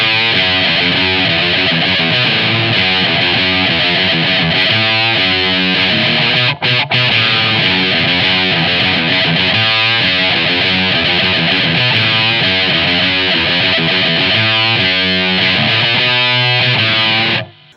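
Heavily distorted electric guitar played through a Boss overdrive pedal with the punch control turned up, giving a cocked-wah tone; loud, sustained riffing chords ring on continuously with no talking.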